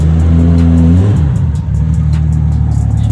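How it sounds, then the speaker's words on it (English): A Toyota Supra MK4 engine revs up from a steady idle, climbing sharply in pitch, then settles into a loud, throaty drone, heard close by with no talking. "We got a Toyota Supra."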